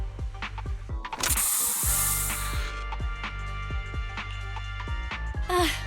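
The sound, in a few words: spray sound effect from video game Zenless Zone Zero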